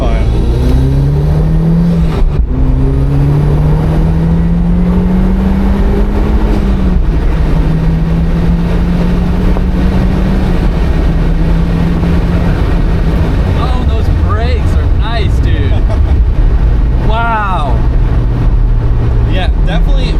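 A turbocharged Mazda Miata NC with a Flyin' Miata turbo kit drives on a road, its engine droning loud and steady from inside the car as revs rise and fall through gear changes, with voices talking over it.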